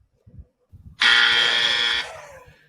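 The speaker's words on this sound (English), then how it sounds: "you will hear a buzzer from the grumpy sound guy" Harsh electronic buzzer sound effect in a quick-answer interview game, one loud steady blast lasting about a second after a short stretch of quiet talk-like murmurs.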